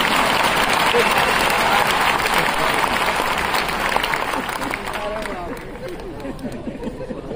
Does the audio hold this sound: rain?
no